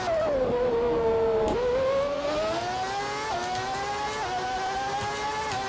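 A McLaren Formula 1 car in GP4 holds a high, whining engine note that sweeps down and climbs again through gear changes, loud and continuous with no talking.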